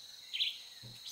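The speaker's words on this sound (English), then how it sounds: "Sunda whistling thrush." Sunda whistling thrush call in Metal Gear Solid 3, a single brief high whistled note, faint and alone amid quiet jungle ambience.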